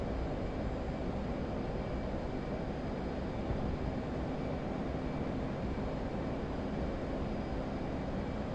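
A carrier-launched jet in a flight video game roars steadily at full throttle, a dense continuous rumble with no break and no voices.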